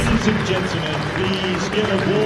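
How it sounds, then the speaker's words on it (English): Applause for the women's compound archery finalists at the 2015 Donaueschingen event, a steady wash of clapping from the crowd with a voice talking over it throughout. "Final round of applause for our athletes."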